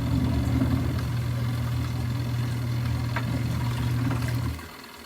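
A ZENY portable mini washing machine runs with a steady low motor hum and faint rattling, then stops abruptly near the end, leaving quieter background.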